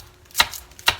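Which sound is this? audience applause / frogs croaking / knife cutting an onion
knife cutting an onion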